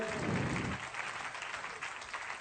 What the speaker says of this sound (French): Vous pouvez encore applaudir très fort Monsieur Démé